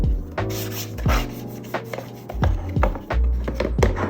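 A cloth wiped with rubbing alcohol is rubbed over the plastic dustbin of a robotic vacuum, giving repeated close scrubbing and rasping strokes, with several sharper knocks of the bin being handled.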